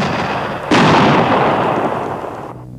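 A heavy bomb-like explosion sound effect for bombers over a town bursts loudly after a short lead-in, then rumbles and slowly decays before cutting off abruptly.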